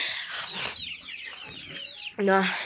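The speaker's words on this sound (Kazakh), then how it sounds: "Жай просто тауықтарымды түсіріп сіздерге көрсетейін деп жайынан" Hens cluck steadily in a poultry yard, close by, with overlapping chattering calls that end in a louder drawn-out squawk.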